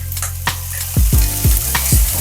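Bell peppers frying in butter over medium-high heat: a steady close sizzle with a few soft scraping stirs in quick succession.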